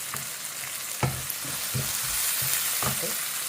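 Sliced onions and green chillies fry in a pan with a steady close sizzle, broken by several soft scraping stirs at uneven intervals, and no voices are heard.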